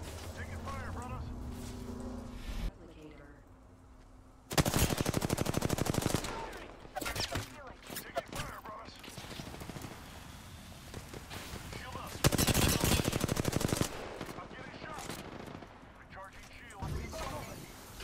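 A video game shootout brings bursts of rapid automatic gunfire, two of them loud and sustained, separated by quieter single shots and background game noise, while voices talk between the volleys.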